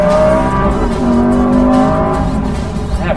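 A Lamborghini Gallardo Superleggera V10 engine revs loud and close, its harsh tone rising and holding in long sustained pulls with no speech over it.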